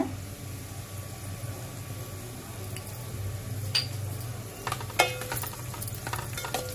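Onions fry in a pan with salt added, a soft, steady sizzle with scraping stirs and a few sharp clicks of the utensil against the pan, close by and without talk.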